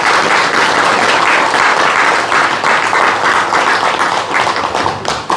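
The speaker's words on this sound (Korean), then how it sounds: "박수 한번 쳐주세요." Loud, close applause from an audience at a Buddhist temple meditation talk, dense clapping holding steady before thinning slightly toward the end, with no voices over it.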